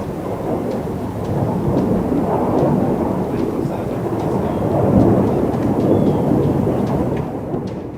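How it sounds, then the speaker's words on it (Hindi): Bombs explode during a night air strike on Gaza, heard as a loud, continuous deep rumble that swells and rolls without a break, with faint crackles on top. "रात के वक्त हुए इस हमले में वहां का आसमान बमों और आग के शोलों से धड़कने लगा।"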